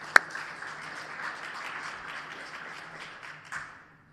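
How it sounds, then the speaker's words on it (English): Moderate audience applause for paper authors at an academic award presentation, opening with a sharp single clap and continuing as steady, fairly soft clapping from a room of listeners. "maybe we could give these authors a round of applause"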